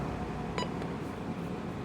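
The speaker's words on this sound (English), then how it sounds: "these two have the same button beep" A radio's button beep, one short high electronic tone with a faint second blip just after, sitting over steady air-conditioning hum in a room at a radio collection.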